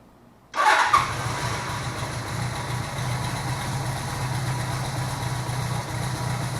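A 1978 Suzuki GS750 motorcycle engine cranks and fires up after carburetor work, catching with a loud burst and then settling into a steady, close idle that runs to the end.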